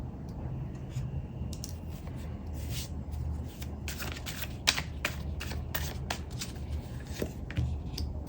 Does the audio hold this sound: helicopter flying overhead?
no